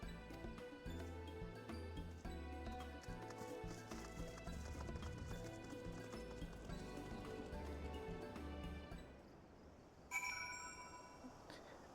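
Horses clip-clop in a procession in the game Final Fantasy XIV, their steady hoof beats set under a dense, loud music score that runs throughout, followed by a brief chime near the end.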